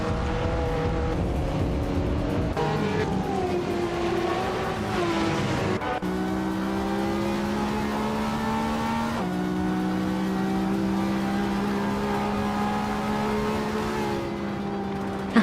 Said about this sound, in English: the race has just kicked off at Daytona Superspeedway